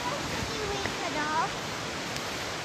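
Waterfall near Horseshoe Lake, a steady broadband rush of falling water filling the outdoor scene, with no clear talk over it.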